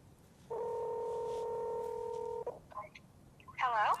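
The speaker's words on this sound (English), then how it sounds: "Next, I'm going to show you how to make a phone call." A Humane AI Pin dials a phone call: a long, steady two-tone dialing beep holds for about two seconds, then short chirps and a brighter warbling ring tone follow, clear and close.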